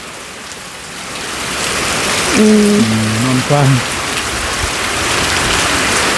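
Heavy morning rain falls in a steady, loud hiss throughout, while a voice briefly speaks a few drawn-out words midway over the downpour.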